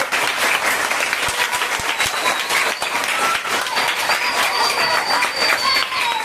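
Audience applause for a children's storyteller at a Tamil storytelling event, a steady, dense wash of clapping that stays loud and continuous from start to finish.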